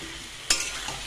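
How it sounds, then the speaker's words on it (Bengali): Spice masala with red capsicum fries in oil as a faint, steady sizzle, and one sharp stirring scrape cuts in partway through. "ভালো করে মশলাটা কষিয়ে নিই তেল ছেড়ে আসা পর্যন্ত।"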